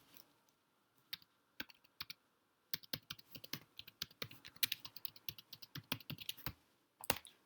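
Keys on a computer keyboard are typed in quiet irregular bursts of crisp clicks, sparse at first and then faster, close and alone.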